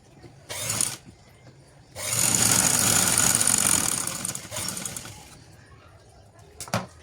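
A sewing machine stitches the shoulder seam of a shirt, running over a folded fabric margin. A short whirring burst comes first, then one steady, fairly loud run of about two and a half seconds that tapers off.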